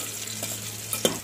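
Spices being stirred into fish curry in a pot, a soft steady scraping and sizzling close by with a couple of brief clinks near the end, no talk.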